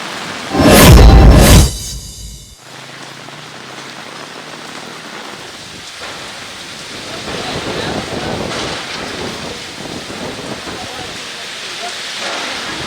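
Heavy rain pours with wind in Hubballi, a steady wash of downpour that follows a short loud gusty burst at the start and carries on at an even level.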